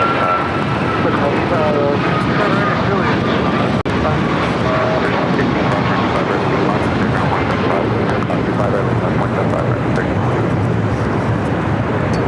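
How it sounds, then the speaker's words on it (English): An Alaska Airlines jet in Orca special livery taking off at LAX, giving a dense, continuous engine roar that stays loud and steady, with a voice talking over it at times. "we got that Orca special delivery with Alaska now taking off"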